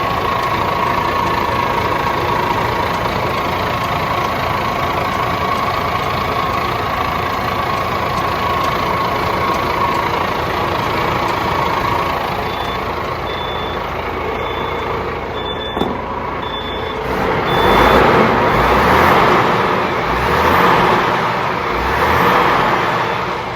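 A DAF CF85 truck diesel idles steadily up close after an exhaust manifold refit, a constant low drone with a faint reversing beep nearby, then a louder rattling rise toward the end.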